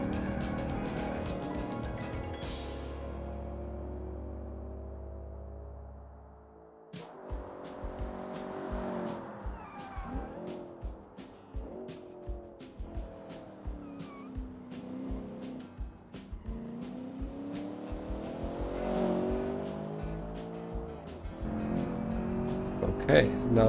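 A car in the racing game Automation is driven through a corner under throttle and braking, with engine notes rising and falling and tyre noise across the run, while a voice talks over it throughout.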